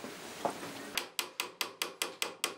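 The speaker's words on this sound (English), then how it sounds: "Sounds like someone is hammering." Sharp hammer strikes ring out in a traditional Korean craft workshop, seven or eight evenly spaced blows following a brief faint knock, each hit crisp and close with a quick decay.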